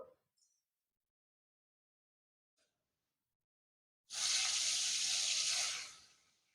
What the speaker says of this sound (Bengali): এখন আমি কাঁকরোলটাকে ভেজে নেব